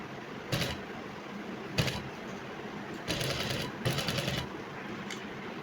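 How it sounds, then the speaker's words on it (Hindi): A sewing machine stitches a neck strip seam on a dress in several short bursts of rapid mechanical whirring separated by pauses, over a low steady background hum. "ये पट्टी की जो सिलाई है, इस सिलाई को हमने इससे, ये जो नेक स्टार्ट जहाँ पर हो रहा है, इससे मिलाना है और अब इसी सिलाई पर सिलाई करनी है"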